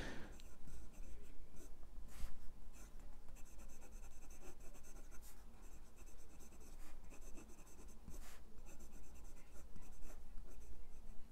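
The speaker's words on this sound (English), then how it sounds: "the medium nib, and it's really starting to write properly now" Kaigelu 316 Stone fountain pen with a medium nib writing on paper, a steady close scratchy rasp of nib strokes continuing throughout with brief louder scrapes.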